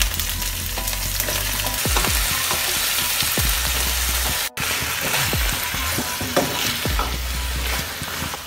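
Eggplant goes into hot oil with curry leaves and green chillies, giving a loud, dense, continuous frying sizzle with stirring scrapes throughout and a very brief dropout midway.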